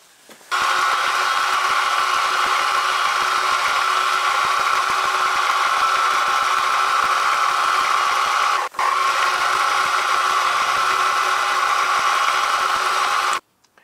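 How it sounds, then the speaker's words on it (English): A steady, loud machine whine runs continuously with one brief dip partway through, a light skim cut across metal surfaces for a miniature petrol engine, then stops abruptly. "I'm just going to take a light skim across the top of these surfaces"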